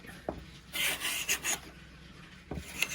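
A Veritas cabinet scraper rasps across a wood surface in a few short close strokes, a dry scratchy rubbing with a longer pass in the middle and quick taps at the start and end.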